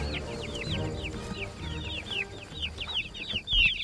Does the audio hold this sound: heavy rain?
no